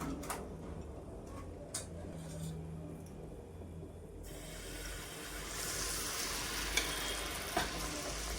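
Semolina malpua frying in hot oil, a steady close sizzle with a few early clicks of a utensil, then the frying swells louder and brighter for the second half, no voices.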